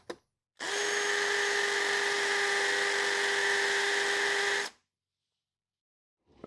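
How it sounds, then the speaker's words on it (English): A powerful hammer drill on impact setting drills into concrete, whining loudly and steadily for about four seconds with a high, buzzing tone, then cuts off abruptly into silence. "so we switch to the hammer drill setting, and now we're going to get some impact as well."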